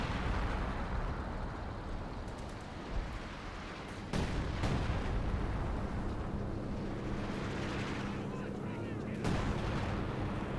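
Artillery fire in the video game Company of Heroes 2 during a 4v4 match on Port of Hamburg, with heavy booming impacts and rumbling blasts layered over continuous battle noise, including a sharp hit near the middle.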